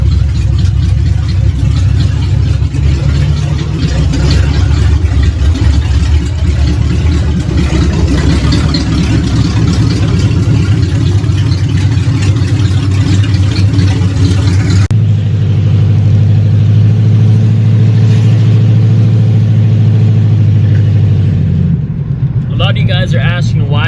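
Modified car engine on a cold start, idling with a steady loud rumble and occasional revs, then settling lower near the end; voices talk over it at times.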